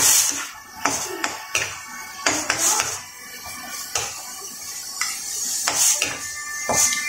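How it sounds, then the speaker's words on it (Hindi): A spoon stirs paneer-stuffed eggplant masala in a pan over low heat, with repeated metallic scrapes and clinks against the pan over a faint sizzle, close and rhythmic. "देखो आंच धीमी है, इसे मिक्स करेंगे अच्छी तरह से।"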